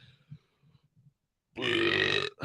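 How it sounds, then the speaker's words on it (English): A man gives a loud, drawn-out burp close to the mic, following some faint low mouth noises, then a brief second burst at the end. "Excuse me, I had to burp a little bit."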